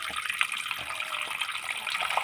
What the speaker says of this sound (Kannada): ಈತ ನೀರು ಪಾಡ್ಗ